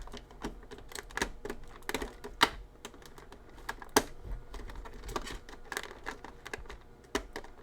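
Halo action figure accessories being pulled free from taped cardboard packaging: a string of sharp, irregular crinkles, snaps and scrapes of tape and card, close up, with no talking.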